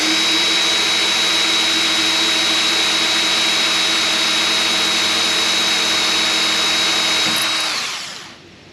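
A power drill runs at high speed through fiberglass on a Chevy Nova body, a loud, steady whine held for several seconds before spinning down.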